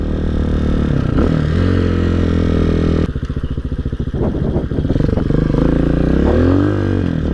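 A Hawk 250 motorcycle engine running loud and close with a steady throbbing idle that rises into revving pulses and rolling acceleration, no talk over it.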